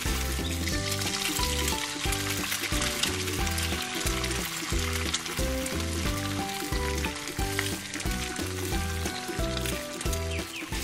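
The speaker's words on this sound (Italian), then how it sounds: "Mentre la carne si cuoce" Meat sizzling steadily on a pan while hot dogs and hamburgers are being made in a toy cooking play scene, with a continuous frying hiss under a loud, looping, rhythmic music track throughout.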